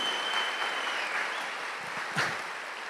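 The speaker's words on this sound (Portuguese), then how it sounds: "Pode aplaudir, Senhor, pode, é Ele." A church congregation breaks into sustained applause, a broad even patter of many hands with a high tone lingering over the first half and a brief thump near the end.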